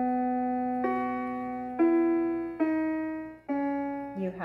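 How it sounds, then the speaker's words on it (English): A QShark electronic piano mat set to a harp voice plays five plucked tones in turn, each decaying before the next, close and moderately loud. "You have a harp."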